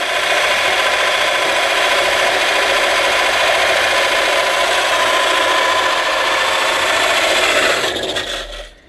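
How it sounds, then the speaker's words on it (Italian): An electric drill fitted with a hole-cutting adapter bores circles into a wooden board, a loud, steady grinding rasp that runs for several seconds before winding down, with no speech. "andiamo a montare sul trapano e andiamo a eseguire i primi fori"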